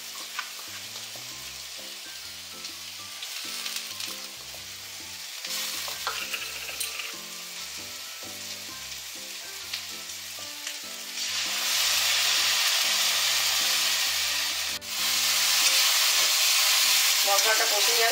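Ground spice paste fries in a pan for a Bengali fish-head dal, steady sizzling with stirring scrapes, the hiss swelling louder partway through and staying intense to the end, no voices.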